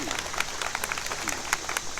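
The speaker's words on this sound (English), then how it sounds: "Yeah, you can clap for Bruce" Audience clapping for the artist at the ribbon cutting and unveiling of the sculpture installation "Touch is Essential", a steady patter of many hands with a few sharper claps standing out, with some speech-like sounds mixed in.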